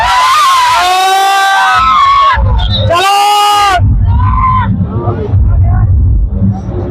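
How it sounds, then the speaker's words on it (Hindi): A dense, noisy crowd at the Kartikeshwar fair of 2022, loud and close, with shouting and high excited voices rising over a constant babble and some engine noise, and a person speaking briefly. "देखो खतरनाक भीड़ एकदम"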